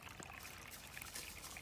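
Backyard stream trickling and dribbling over rocks, a steady close wash of water running the whole time with no one talking.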